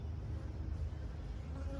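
Honey bees buzzing around apiary hives outdoors: a steady, low, faint droning hum that runs throughout without pause.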